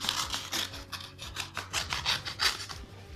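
Scissors snipping and rubbing through the packaging of a parcel from Japan holding trading cards: a rapid series of crisp, close cuts and scrapes, steady and unbroken, with no voices.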